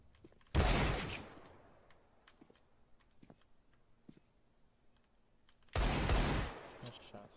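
Two loud gunfire bursts from Counter-Strike: Global Offensive, one near the start and one near the end, each a dense rapid volley with a short decaying tail, separated by quieter game ambience with faint clicks.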